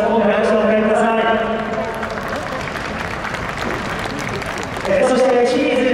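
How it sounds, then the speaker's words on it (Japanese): Applause at a GT300 motorsport season award ceremony, steady crowd clapping heard under an announcer's amplified voice, with the talk pausing in the middle stretch. "今回拍手をお迎えください。"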